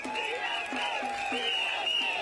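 At an outdoor political party rally in a stadium, a crowd cheers and applauds in a continuous wash of noise, with tonal calls or horns rising over it in repeated pulses.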